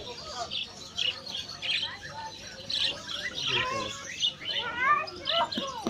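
Dense, overlapping chirps and squawks from many birds at once in a bird market in Qatar, loud and continuous, with voices talking faintly underneath.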